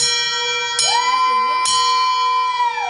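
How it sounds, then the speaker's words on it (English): Cancer survivor's bell rung in a hospital, struck twice in quick succession with a clear, bright ring that lingers and fades. "Ringing the cancer survivor's bell,"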